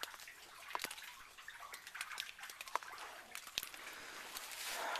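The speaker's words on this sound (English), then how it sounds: "And the falling water is everywhere." Falling water drips and splashes all around inside a flooded underground mine, faint and echoing, with scattered sharp drops over a steady wash of trickling water.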